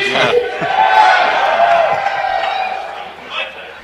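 A crowd gathered before a world championship competition cheers and roars in a loud, sustained swell that peaks early and then fades slightly, with a short renewed burst near the end.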